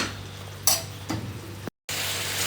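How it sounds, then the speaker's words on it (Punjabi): Cumin seeds and a bay leaf roasting in a hot pan for an onion-tomato sabzi: a steady close sizzle with a couple of scraping stirs and a brief cut-out before the crackle resumes. "ਥੋੜਾ ਜਿਹਾ ਆਪਾਂ ਜੀਰਾ ਪਾ ਦਾਂਗੇ ਜੀ ਇਹਨੂੰ ਫਿਰ ਆਪਾਂ ਚੰਗੀ ਤਰ੍ਹਾਂ ਭੁੰਜ ਲਾਂਗੇ ਜੀ"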